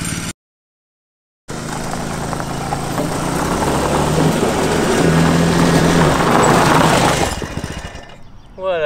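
A gas-powered engine fitted to a VW minibus PowerWheels ride-on toy runs loud and close. It starts after a brief silence, holds a steady rattling drone that swells as it revs, then cuts off near the end.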